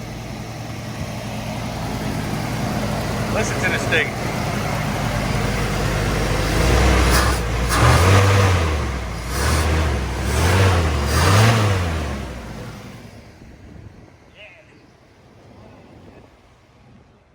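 A 1975 Chevy C10 pickup's engine, running after 18 years unused, idles with a low steady rumble, then revs up several times in surges before cutting off into near silence; a voice speaks briefly early on.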